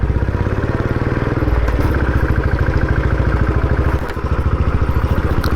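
A motorcycle engine chugs loudly and steadily as the bike climbs a steep, rough uphill road, with a close, rapid rhythmic throb and some rattling over the bumps.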